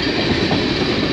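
CP freight train 422, hauling chloride cars, rolls steadily past at close range, a continuous loud rumble of wheels and cars with no pause over the short stretch.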